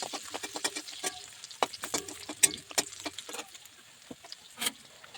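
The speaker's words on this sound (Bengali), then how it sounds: "এবার আমি গাজর কিশমিশগুলো মেজে নিচ্ছি" Carrots and raisins stirred in a frying pan for Bengali fried rice: soft, irregular scraping and clinking of a spoon with a faint sizzle underneath, quiet and close, no talking.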